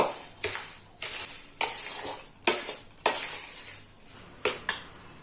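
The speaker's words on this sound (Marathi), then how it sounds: "आता रवा आणि खवा छान असा मिक्स करून घ्यायचा आहे" Semolina and khoa roasting in a kadhai are stirred with a spoon, giving repeated scraping strokes about once a second over a soft, steady sizzle.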